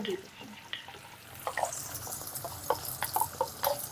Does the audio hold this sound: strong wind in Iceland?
no